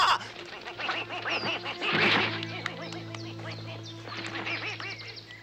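Goose honks and quacks in an animated cartoon sound over a steady musical backdrop, busy and layered, with several calls overlapping throughout.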